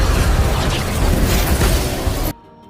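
A police station explodes in a film scene, a loud dense blast and roaring debris rumble sustained for about two seconds before cutting abruptly to near silence.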